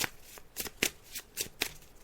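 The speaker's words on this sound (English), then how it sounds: "Teresa, so I'm just gathering the cards. I'm just shuffling them now." Tarot cards shuffled by hand during a psychic reading, a run of soft, quick riffling bursts that repeat in an uneven rhythm, close and clear with no talking.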